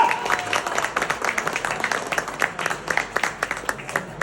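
A crowd applauds at an official family celebration, a dense patter of many hands clapping steadily at moderate distance, with some voices mixed in underneath.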